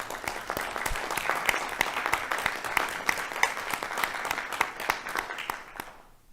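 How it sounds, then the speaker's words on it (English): City council meeting audience giving a round of applause for leadership, steady mid-level clapping from a crowd lasting about six seconds and ending abruptly. "another round of applause for amazing leadership"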